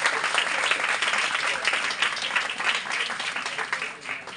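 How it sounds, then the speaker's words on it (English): An audience applauds steadily and fairly loudly for several seconds at a community gathering. The clapping is dense and sustained throughout. "All right, make we clap for Julie"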